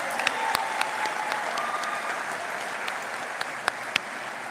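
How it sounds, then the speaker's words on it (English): Round of applause at a UTT graduation ceremony, a steady hall-wide clapping wash with a few sharper individual claps standing out near the microphone. "graduates, round of applause for everyone as well"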